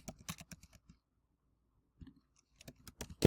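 Keys clatter on a computer keyboard in two quick bursts of close, crisp typing separated by about a second of near silence, with no voices present.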